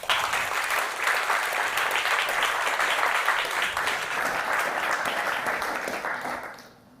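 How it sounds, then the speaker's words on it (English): Conference audience applauds to welcome a keynote speaker on stage, a dense steady wash of clapping from many hands that holds for about six seconds, then fades out quickly at the end. "please give a big applause and welcome Dr."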